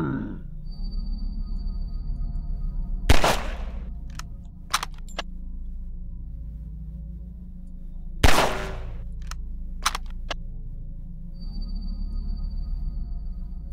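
A reused Half-Life 2 pistol sound effect in a video game, two loud, sharp shots several seconds apart over a steady low hum, with a few faint clicks between them.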